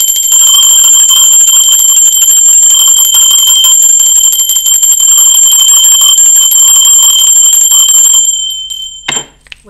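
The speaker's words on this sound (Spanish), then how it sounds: "Va campana, ser divino." A bell rings loudly and continuously with a bright metallic tone, like a rapid alarm-style ring that holds for about eight seconds and then stops abruptly, followed by a brief clatter.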